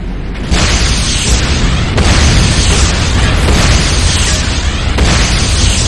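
Explosions hammer a GDI harvester under attack in the Renegade game, forming a loud, continuous roar of blasts with sharp onsets near the start and around the two-second mark, without speech.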